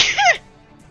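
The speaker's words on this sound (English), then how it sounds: "I sneeze." A single short, comic character sneeze from the video game Shadows Over Loathing, a quick breathy burst with a falling pitched tail, close and clear, followed by quiet.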